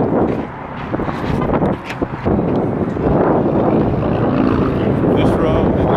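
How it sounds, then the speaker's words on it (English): Strong wind roars and buffets the microphone in a constant, heavy rush, with gusts swelling and dipping throughout. "Look, it's ridiculously windy."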